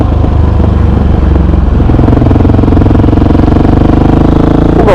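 A 2023 Ducati Hypermotard 950SP motorcycle is ridden, its engine a loud, constant throbbing roar with rattly texture heard up close, holding steady throughout.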